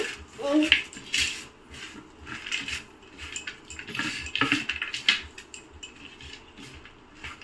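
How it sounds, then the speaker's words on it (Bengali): Mashed jackfruit seeds and other ingredients are worked together in a bowl, giving soft scraping and clinking of a utensil against the dish, close and moderately loud, continuing under a background voice. "সবগুলো উপকরণ ভালো করে মিশিয়ে নিচ্ছে"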